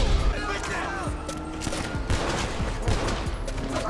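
A double-action revolver fires a rapid series of gunshots in a video game headshot challenge, with sharp repeated reports and overlapping booms, loud and close, with a voice talking over them.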